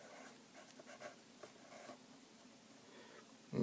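Faint scratching of a pen or pencil writing a word by hand, soft irregular strokes close by in a quiet room, ending with a brief bump.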